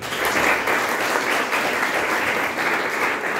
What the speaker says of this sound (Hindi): सेल्फ डिपेंडेंट बनना, उसके लिए तालियां बजाओ।